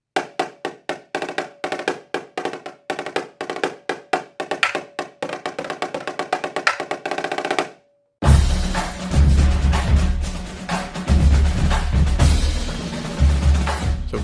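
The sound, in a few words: real drumline drums, Vice Principals soundtrack intro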